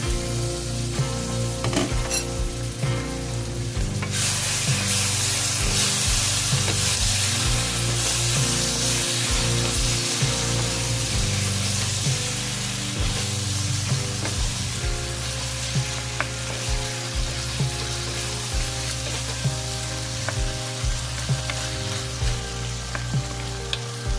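Ground pork with mushrooms and snow peas sizzles loudly in a hot pan while being stirred, a steady crackling fry with the scrape and clatter of a spatula throughout, no voices.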